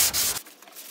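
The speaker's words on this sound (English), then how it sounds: "So let's get sanding." Block sanding on the body of a 1967 VW Beetle: a close, dry abrasive rub in a short stroke that ends abruptly, followed by quieter scraping.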